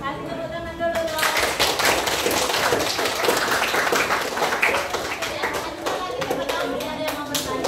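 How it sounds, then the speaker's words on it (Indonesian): Students in an Indonesian classroom break into a burst of hand clapping, many hands close and loud in a dense, sustained round that thins to a few scattered claps, with some voices mixed in. "Kasih tepuk tangan dulu dong"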